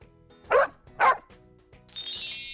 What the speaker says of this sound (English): Yap likes to bark.